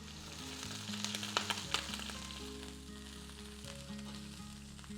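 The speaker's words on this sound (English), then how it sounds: "So while the fish is searing" Black sea bass fillet searing in a hot pan gives a steady, close sizzle with a few sharper crackles and pops early on, no voices over it.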